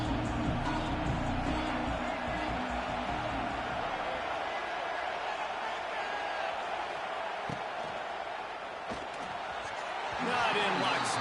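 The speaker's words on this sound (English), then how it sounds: "how nice is it to have the home crowd going absolutely bananas?" Home crowd at a football game roaring steadily as a continuous wash of cheering that swells louder near the end, with a commentator talking over it.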